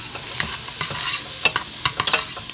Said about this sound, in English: Let that toast in the pan